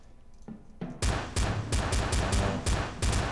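Pistol gunfire in the Western video game Guns & Spurs: a rapid sequence of loud, close shots, roughly ten cracks in about two seconds, following a few quieter sounds.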